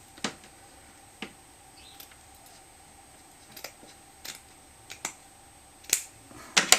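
Scissors snip through lace fabric being trimmed for a lace basket, giving about ten sharp, quiet cuts spaced irregularly at close range, with a faint steady hum underneath.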